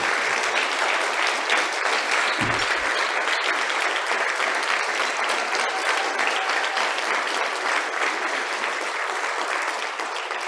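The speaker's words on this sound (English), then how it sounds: "I'd like you to stand up and let us applaud you" A gala audience applauds honoree Ann Moser at the 2022 ULF Tribute Gala, a full, steady roar of many clapping hands lasting the whole stretch, with crowd noise mixed in and a slight fade at the close.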